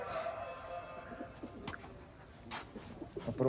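Soft pigeon cooing repeats a few times over a steady low background hum, fairly close and moderately quiet.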